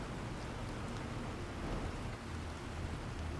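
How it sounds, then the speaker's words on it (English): Rain falls steadily in the survival game The Planet Crafter, a faint, even hiss of drops with a low rumble beneath, and no talking. "Hey, it's raining."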